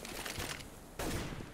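Rapid bursts of automatic gunfire crackle during a competitive Counter-Strike match on the Nuke map, a dense rattling volley that pauses briefly and then resumes just as loudly.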